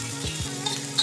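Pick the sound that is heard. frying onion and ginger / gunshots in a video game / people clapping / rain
frying onion and ginger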